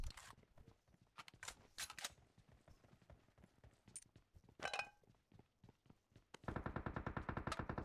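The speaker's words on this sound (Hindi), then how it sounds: "आगे फायर हो रहा है" Video game gunfire crackles in sparse single shots and short bursts, then breaks into a loud, sustained rapid volley toward the end, with no talking.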